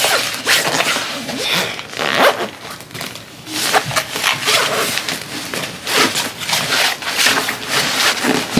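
A zipper being pulled along a packed school book bag, with a run of repeated raspy zips and rustling close by and fairly loud, no talking.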